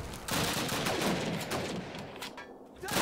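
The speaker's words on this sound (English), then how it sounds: "Where is all this gunfire coming from?" Rapid bursts of automatic gunfire from the Call of Duty Train Yard map rattle loud and dense, clustered shots firing in quick succession for several seconds.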